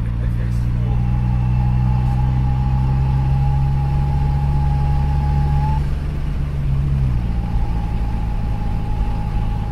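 Turbocharged 2016/2017 Chevy Cruze engine with a big turbo upgrade running loud and steady, a droning hum with a sustained whine that drops pitch near the end, with people talking over it.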